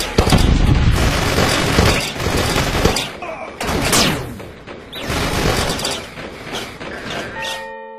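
Gunfire in a video game where a deer carries a gun: loud rapid bursts and booming volleys in the first few seconds, then sparser shots with whooshes and some game tones.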